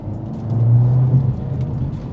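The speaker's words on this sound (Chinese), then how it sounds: "深踩一下油门它就恢复那个暴力凶兽的感觉，那个加速呼呼呼" A Mercedes-AMG A45S 4Matic+ hot hatch accelerates hard under deep throttle in comfort mode, its engine swelling into a loud, steady rising roar heard from inside the car, with no talking.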